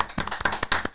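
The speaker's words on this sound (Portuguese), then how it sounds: "Palmas pra Raiza." Short burst of applause for Raiza on a Brazilian podcast, a few quick rounds of hand claps close by with no talk over them.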